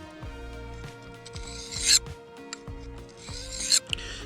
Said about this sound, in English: So that's another reason I really prefer hand sharpening.